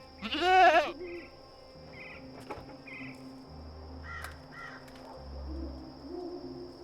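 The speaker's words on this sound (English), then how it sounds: "Goat eats leaves, goat falls asleep." A goat in the video game Dreamfall Chapters gives a loud bleat at the start, followed by softer game sounds: short tonal blips, a sharp tap and a low hum, with no speech.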